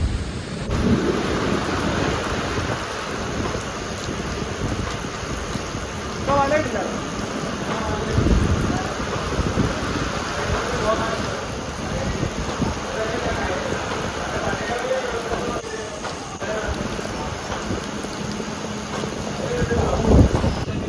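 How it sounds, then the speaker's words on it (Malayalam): Heavy monsoon rain roars steadily with gusting wind buffeting the microphone at a village fishing spot, and faint low rumbles underneath throughout. "നല്ല കാറ്റും നല്ല സൂപ്പർ മഴ"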